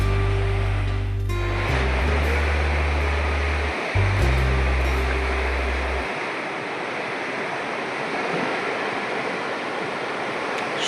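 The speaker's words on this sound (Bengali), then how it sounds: "সমুদ্রের ঢেউ" Sea waves break on the sandy shore at Tajpur beach, a broad continuous roar and wash, close and fairly loud, with a low droning hum in the opening seconds.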